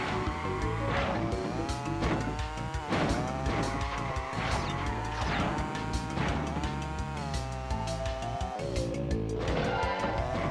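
Go-karts in the Crash Team Racing video game driving and drifting: loud continuous engine whine with rising and falling pitch, tire squeals and game music layered throughout, no talking.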